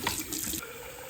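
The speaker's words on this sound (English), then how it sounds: "In this case, I'm just going to fill it from the sink." Cold tap water gushes from a kitchen sink faucet into a Sunkettle, a steady close rush that drops to a quieter trickle partway through.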